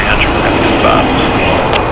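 A 20-year-old Boeing 757-300 airliner departing from the north side of LAX, a steady loud broadband engine roar filling the whole short clip.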